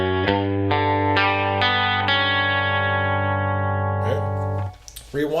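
Distorted electric guitar chords ring out one after another, each struck sharply and sustained, then cut off near the end.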